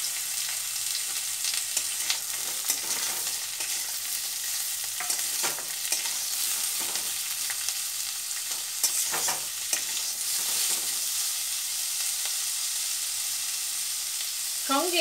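Thinly sliced potatoes fry with a steady sizzle in a pan as they are stirred, with occasional scraping strokes over the continuous frying hiss, close by and with no talking.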